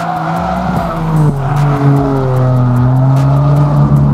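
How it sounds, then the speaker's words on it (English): A substantially modified Toyota GR Yaris screams past on the track at Rockingham, its engine pitch rising and shifting through gears, loud and close with a sustained buzzing roar. "This GR Yaris, if you hadn't guessed, it's been quite substantially modified by its owner, Daniel."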